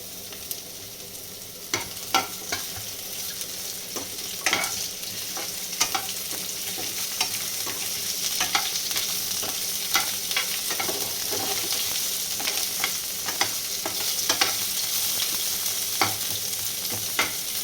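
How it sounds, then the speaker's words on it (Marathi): Onion frying in oil with a bay leaf and spices for matar paneer, a continuous sizzle with frequent clinks and scrapes of a spoon stirring the pan, steady and close, no talking. "जरा कांदा थोडा लालसर होऊ द्यायचा"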